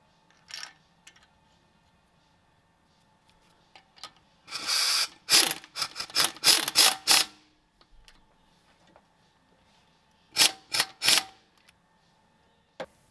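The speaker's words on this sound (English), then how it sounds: "you remove the old bolt and install the new one and torque it down to spec" Ratchet tightening a new bolt on a manual-transmission Volvo V70 during a driveshaft seal job, several quick bursts of close metallic clicking in two clusters, separated by quiet pauses.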